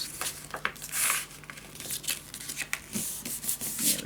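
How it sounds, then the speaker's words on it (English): Paper being folded for a scrapbook pop-up album, close-up crinkling, rubbing and creasing, with irregular rustles and swipes throughout and no talking. "Let's fold this."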